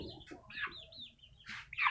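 A fighter chicken on a farm clucks in short, close bursts, several quick calls spread across two seconds, fairly quiet with no talking.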